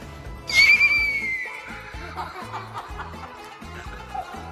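A child's high, wavering whinny imitating a horse rises sharply and trails off, followed by laughter over a rhythmic music backing.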